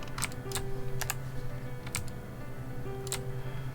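Computer keyboard keys pressed while modeling RC car parts in Blender, a handful of separate crisp clicks spread over a few seconds against a quiet room hum.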